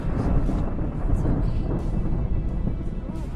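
Thunder rumbles from a lightning storm over a lake during a backcountry canoe trip in Quetico, a dense, steady roar that fills the whole span with no clear breaks.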